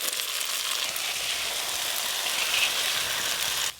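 Soaked rice and dal go into hot oil for khichuri, producing a dense, even hiss of frying that holds steady and close for several seconds before cutting off.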